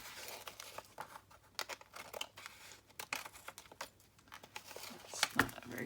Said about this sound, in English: I need to trim the lace.